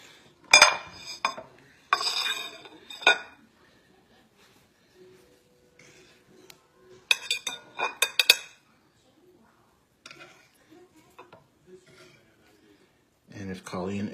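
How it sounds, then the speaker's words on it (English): Pressure-cooked pork tenderloin and baby potatoes are plated, with sharp clinks and scrapes of cutlery against dishes in scattered bursts between quiet pauses, close and fairly loud; a voice speaks briefly at the end. "So we're gonna plate it."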